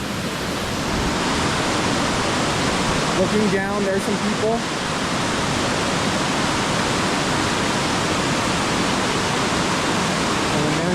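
A waterfall at Gloria Falls roars as a steady, broadband rush seen from the top of the falls, constant throughout while someone speaks briefly over it.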